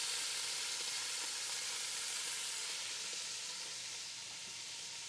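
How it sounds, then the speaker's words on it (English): Chunks of beef for a beef bourguignon searing in a hot pan, a loud, steady close-up sizzle and crackle of frying that holds without a break and fades slightly toward the end. "You guys hear that crispiness? Do you hear the sizzle?"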